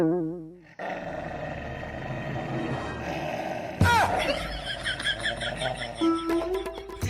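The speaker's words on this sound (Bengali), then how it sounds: "রাসেল ভাইপারে পোষা কুত্তা আয়া পড়ছে" A comedic dog growl sound effect plays in a Bangla comedy sketch, a rough snarling growl with a sharp burst partway through, layered over music and other effects.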